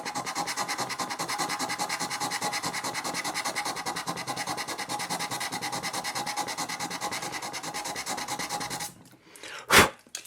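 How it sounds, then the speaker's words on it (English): Rhythmic back-and-forth rubbing as a tiny piece of sandpaper scrubs over a metal rivet head on a Polaroid SX-70 film door panel, close and steady for about nine seconds before stopping, followed by a brief bump. "just using a tiny little piece of sandpaper, just come over the head of the rivet"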